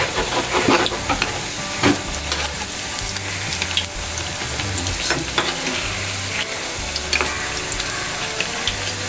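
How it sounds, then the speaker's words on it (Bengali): Pumpkin leaf pakoras fry in hot oil with a loud, continuous crackling sizzle, interrupted by occasional scraping stirs and clinks of a utensil against the pan. "আমাদের পাকুড়া ভাজা হয়ে গেছে, এখন আমরা এটা নামিয়ে ফেলবো।"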